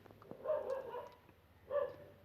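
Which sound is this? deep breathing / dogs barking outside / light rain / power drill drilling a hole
dogs barking outside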